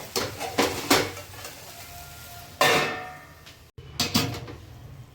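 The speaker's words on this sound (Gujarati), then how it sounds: "પછી ટમેટા નાખી અને સરસ મિક્સ કરી" A spoon stirs okra and potato curry with tomatoes in a metal pan, giving repeated close scraping clanks and knocks against the pan in an uneven rhythm, with short pauses between bursts.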